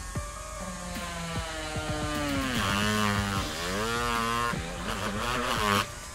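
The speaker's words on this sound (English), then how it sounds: "if I drill down from the bottom, the pilot holes" A power drill drilling pilot holes for a closet organizer whines at high speed, its pitch rising and dipping repeatedly as it bites in, with short pauses between bursts, close and loud.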